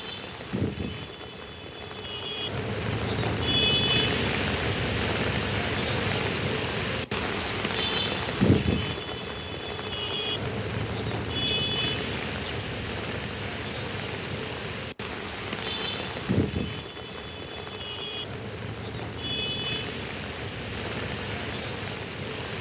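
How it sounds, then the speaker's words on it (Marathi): Heavy rain pours down in Mumbai: a steady, dense hiss of downpour fills the whole span, broken by a few brief, louder low thumps. "मुंबईमध्ये जोरदार पाऊस बरसतोय"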